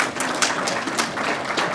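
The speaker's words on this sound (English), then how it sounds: "round of applause." An audience claps steadily, a dense patter of many hands at moderate loudness with no pause.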